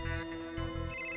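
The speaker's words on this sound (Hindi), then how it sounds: "फोन, किट्टू का फोन" A phone ringtone plays in a domestic TV drama scene, a bright repeating electronic tune that pulses in quick rhythmic bursts, clear and fairly loud with no one speaking over it.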